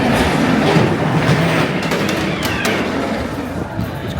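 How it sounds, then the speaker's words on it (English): A ghost train ride at Blackpool Pleasure Beach rumbles along its track, a steady loud clatter of wheels with rattling and screeching higher tones throughout, no voices. "get on the world's first ghost train"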